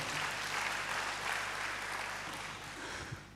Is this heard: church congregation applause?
yes